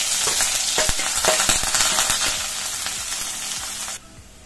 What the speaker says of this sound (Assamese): এয়া মই পিঁয়াজখিনি অলপ ভাজি লৈছোঁ